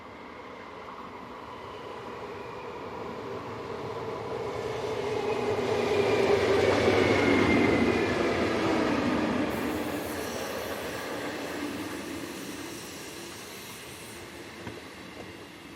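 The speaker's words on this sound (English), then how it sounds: "Unit number 560067 arrives with a service from Langenthal to Olten." Swiss train unit 560067 on a Langenthal to Olten service pulls in, a rumbling roll of wheels on rails that swells as it nears and passes, then fades, with no voices.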